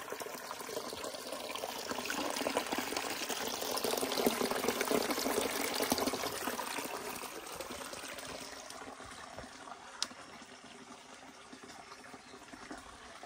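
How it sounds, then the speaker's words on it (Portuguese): A small forest waterfall by a campsite pours into a pool with a steady, close wash of falling water that swells and then eases slightly, with no voices. "É o barulhinho da cachoeira."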